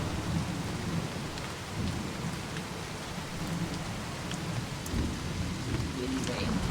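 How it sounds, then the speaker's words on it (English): Steady, dense rain with gusting wind in the video game Season: A Letter to the Future, a constant immersive downpour hiss with low blustery rumble and occasional drips, no talking. "Lots of rain"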